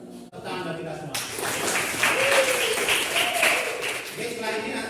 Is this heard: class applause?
yes